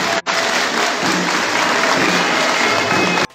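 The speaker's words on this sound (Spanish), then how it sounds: "Un aplauso al Niñito Jesús." Inside a Catholic church, a congregation applauds a statue of the Christ Child with a dense, loud burst of clapping that briefly cuts out near the start and then stops abruptly.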